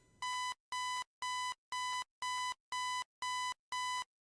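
An in-game alarm clock tone from a survival game sounds alone as eight evenly spaced electronic beeps, each about a third of a second long, steady and fairly loud.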